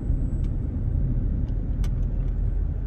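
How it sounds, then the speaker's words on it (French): A car being driven, heard from inside as a continuous low engine and road rumble with a few faint higher clicks, and no talk. "j'ai une femme qui conduit d'abord la voiture ici"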